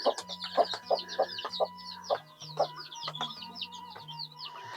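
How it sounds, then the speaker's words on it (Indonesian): Several village chickens cluck in quick irregular bursts close by, with a steady low hum underneath and no talking. "Banyak ayam"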